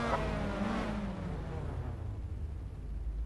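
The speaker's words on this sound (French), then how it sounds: "Donc les voitures se placent après grille." Race cars rolling onto the starting grid at Nogaro circuit, a low engine drone and rumble with one engine's note rising briefly before settling into a steady idling roar.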